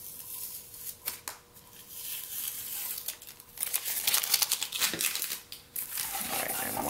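Strips of tape peeled off the edge of a finished watercolor landscape painting on paper, giving a run of close crinkling, tearing rips and crackles that grow louder and denser toward the end.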